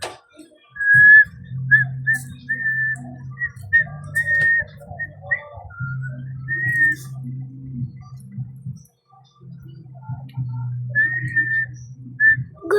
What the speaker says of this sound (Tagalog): kaya nyo ba sumipol?